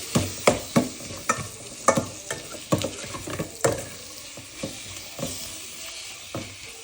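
A spoon stirs bajji mirchi chillies with tomatoes and onions in a pan, giving a series of sharp scraping knocks at a steady rhythm over a soft, constant sizzle.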